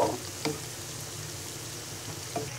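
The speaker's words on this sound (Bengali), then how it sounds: "এবার পেঁয়াজগুলো ব্রাউন কালার করে ভেজে নিব।" Onions for Bangladeshi dal peyaju frying in hot oil, a steady soft sizzle with a couple of faint clicks, no voices.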